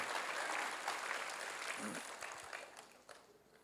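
A church congregation claps together during a sermon, dense applause that starts full and then thins and fades out over a few seconds.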